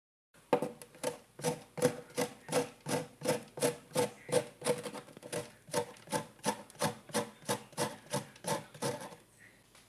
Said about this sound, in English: It's gonna take a little while to manually grate this, but I'll do it.